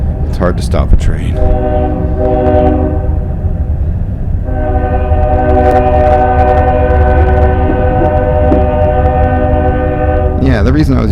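A train passing close with heavy rumble and repeated long horn blasts, the horn sounding in two stretches with a brief gap between.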